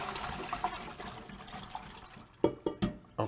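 Cooked pasta shells are drained, water pouring and splashing steadily nearby, followed by a few sharper bursts of liquid hitting a sink near the end, no speech.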